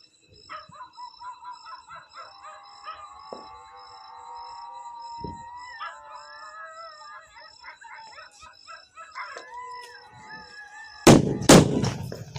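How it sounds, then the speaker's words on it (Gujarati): A homemade New Year firecracker goes off in a sharp cluster of loud bangs near the end, after a stretch of birdsong and rooster-like calls with faint background noise. "તો નવા વર્ષનો ફટાકો બનાવ્યો છે."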